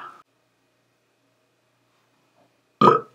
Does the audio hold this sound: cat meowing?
no